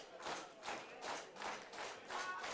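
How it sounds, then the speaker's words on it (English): A wrestling crowd at a two-out-of-three-falls match roars in steady rising and falling waves, loud and close, with cheering swells arriving about every half second and no clear talk over it. "And this crowd loves CXR. You can hear them."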